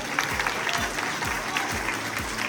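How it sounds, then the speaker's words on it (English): Audience applause fills a kindergarten assembly, a steady wash of clapping from the crowd with some low rhythmic thumps underneath, moderately loud throughout. "Let's give them all a round of applause."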